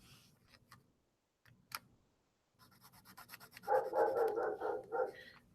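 Dogs barking outside, several quick barks in a cluster toward the end, preceded by scattered ticks and faint scratchy sounds, moderately distant, with no talking.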